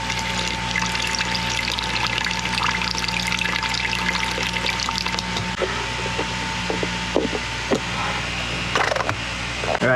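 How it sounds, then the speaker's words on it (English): Distilled water poured into lead acid batteries aboard a sailboat, a continuous gentle trickle and pour with faint background hum and a few small knocks near the end. "We have to water our batteries."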